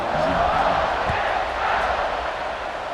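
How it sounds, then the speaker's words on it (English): Stadium crowd in College Football 26 keeps up a loud, steady buzzing roar that swells and eases slightly throughout, with no clear voice on top. "this crowd is buzzing after that last score"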